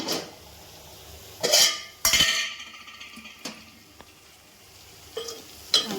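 Flat bean curry being stirred in a pan on the stove, with scraping spoon strokes and clanks against the metal in irregular bursts over a faint background hiss.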